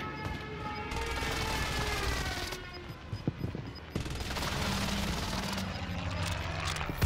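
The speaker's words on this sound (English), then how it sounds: "Enemy precision airstrike." An enemy precision airstrike on the Caldera map of a video game: a dense, continuous roar of aircraft and rattling blasts that fills the whole stretch, with a few sharper cracks in the middle and a burst at the end.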